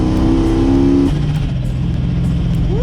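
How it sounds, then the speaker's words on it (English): Supercharged Dodge Dakota R/T engine revs up loudly and then drops back. A steady engine drone follows with faint repeated skipping chirps from a faulty bypass valve. "our blow-off valve or bypass valve is definitely not working. You can hear it skipping like crazy"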